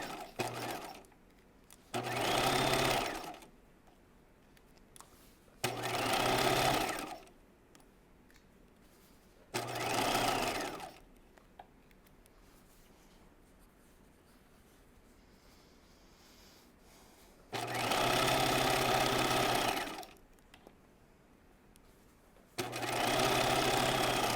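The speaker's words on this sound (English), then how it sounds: "And now we're going to stitch around this upper edge." A sewing machine stitches around the upper edge of a raglan top, running in five or six steady bursts of a few seconds each, separated by quiet pauses, close and clear with no speech.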